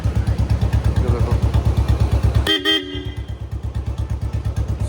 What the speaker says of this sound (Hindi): मैं आपको हॉर्न वगैरह की आवाज़ भी सुना देता हूँ एक बार